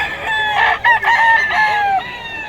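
A kanawayon gamecock rooster crows nearby, a loud drawn-out call with a rising and falling tone, followed by a short second crow.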